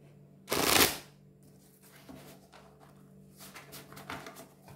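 A deck of oracle cards riffles in one loud, close burst lasting about half a second, followed by softer scattered taps and shuffles as the cards are gathered, with no talking.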